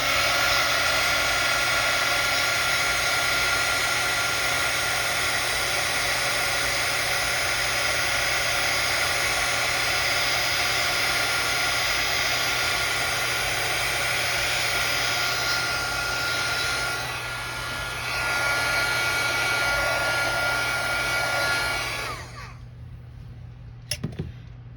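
A heat tool blows continuously to heat-set ink on a handmade Christmas card. The loud, even whooshing hum runs for over twenty seconds, then cuts off abruptly and leaves a few faint clicks.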